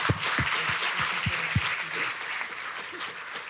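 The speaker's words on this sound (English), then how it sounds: "can everyone please join me in giving them another round of applause?" A crowd at a startup pitch competition gives a round of applause, a full, sustained patter of many hands, with a few low thumps at the start, staying steady before easing slightly.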